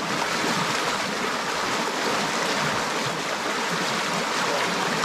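Steady rushing flow of the clear Blue Spring stream along the Te Waihou Walkway near Putaruru, New Zealand, a broad, even wash of moving water that holds constant and close throughout, with no voices.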